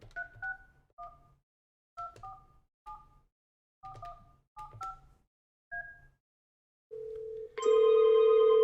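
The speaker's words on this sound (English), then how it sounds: "I'm going to place a test call from my office phone to that number." A series of short paired touch-tone beeps dialing a number in quick bursts from an office VoIP phone, then a steady tone and a brighter ringing tone at the end, close and clear.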